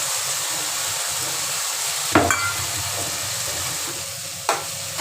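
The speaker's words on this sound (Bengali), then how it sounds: "এইবার মশলাটা এইভাবে নাড়িচাড়ি একটু মশলাটা কষবে।" Masala spices being stirred and fried in a pan give a steady, soft sizzle with two brief scraping knocks of the spoon; no one speaks.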